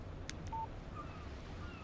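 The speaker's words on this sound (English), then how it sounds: "Text message from Barry." A short electronic phone alert tone for an incoming text message in the video game Alan Wake Remastered, a single brief beep over a low steady background hum, with a faint click just before it.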